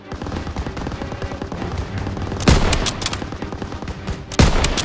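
Sustained Call of Duty WW2 machine gun fire in a town square battle, dense rapid bursts with sharp, loud shot cracks layered over a continuous battlefield rumble.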